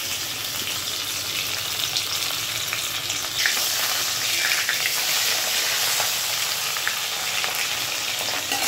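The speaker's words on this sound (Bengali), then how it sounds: "মাছ তো ভাজা হয়ে গেছে, একটু একটু কড়া করেই ভাজলাম মাছটা" Pomfret fish coated in salt and turmeric fries in hot oil, producing a loud, continuous close-range sizzle with occasional stirring scrapes, and the spitting grows brighter partway through, with no voices.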